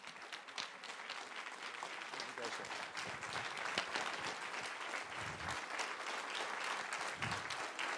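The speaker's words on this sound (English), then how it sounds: "I think Dan's worth a standing round of applause," A crowd gives a standing ovation for Dan Webster at a community gathering, with sustained, dense clapping filling the room steadily for several seconds while voices talk over it.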